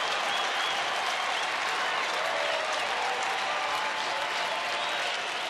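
Baseball crowd at a Rangers home game applauding for Joakim Soria and the Rangers, a dense, sustained wash of clapping that fills the stadium and runs without a break.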